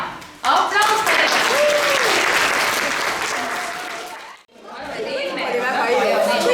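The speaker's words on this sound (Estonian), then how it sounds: "Aplaus teile!" Audience applause at a family Christmas-season evening in the Pajusi village community hall, honouring a theatre studio and its leader; steady, dense clapping with crowd chatter runs throughout, dips briefly to near silence, then swells again.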